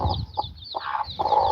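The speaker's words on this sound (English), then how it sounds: "These chicks are some of the thickest native chicks I've ever seen." Native chickens clucking softly near a farm brood with eggs, a few short close clucks along with faint high chirps from chicks.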